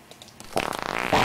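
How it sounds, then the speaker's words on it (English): Stink bug mob from the Minecraft Orespawn mod letting out a prolonged, sputtering fart: a quick series of rapid flapping pulses that swells into a louder burst at the end, close and alone with no talk. "Oh dear, ghastly farting sounds."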